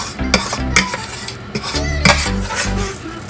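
Kamote (sweet potato) being stirred in a pan, with repeated clattering scrapes and knocks of a utensil against the pan in an uneven rhythm, close and fairly loud, over a faint sizzle.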